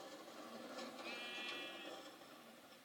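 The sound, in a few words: sheep bleating in Minecraft video game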